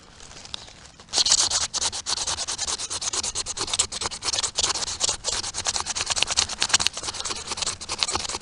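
Cherry bark is scraped hard to make fire tinder, a dense, rhythmic rasping scratch that starts after a brief quiet moment and continues steadily, close and fairly loud.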